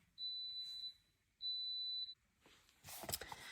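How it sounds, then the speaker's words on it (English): An Instant Pot electric pressure cooker gives two long, high electronic beeps in a row, clear but not loud, followed by a brief burst of rustling. "my soup was done, so it was beeping in the Instapot."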